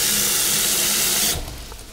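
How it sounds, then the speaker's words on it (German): Cold water runs from a kitchen tap into a bowl as a loud, steady hiss and splash, then is shut off, leaving a quieter room tone. "da kommt kaltes Wasser rein."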